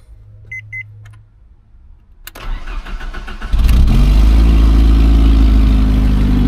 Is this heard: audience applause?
no